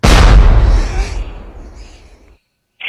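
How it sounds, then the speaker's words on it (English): A heavy boom like cannon fire hits hard and rumbles away over a couple of seconds, fading into silence. "that was a cannon."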